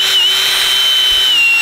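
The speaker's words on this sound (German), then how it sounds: "Ich würde da erstmal bohren." A power drill runs in one continuous high whine, loud and close, with no talk over it.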